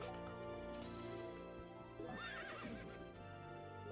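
Horse neighing in the video game Berwick Saga, a wavering whinny rising around the middle of the clip over steady game music and hoof clip-clops.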